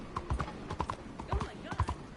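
A horse in the video game Red Dead Redemption 2 sets off in a brisk gallop, heavy hoofbeats thudding in a quick rolling rhythm, close and fairly loud, while a voice murmurs briefly over it.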